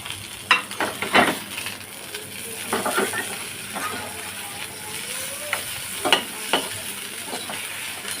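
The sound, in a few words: onion and okra frying in oil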